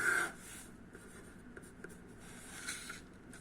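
Someone writes out a math question by hand, pen or chalk scratching in short uneven strokes with small taps, close and quiet over a faint room hiss, with no talking.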